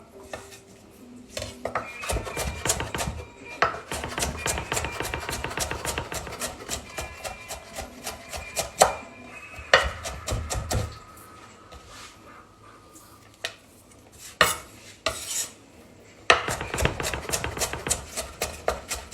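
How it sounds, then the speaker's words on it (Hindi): A knife roughly chopping raw mango on a cutting board, giving rapid, clattering strokes in bursts with brief pauses between them, close and fairly loud. "अब जो है मैं इसको मोटा मोटा जो है रफली इसको चॉप कर लेता हूं"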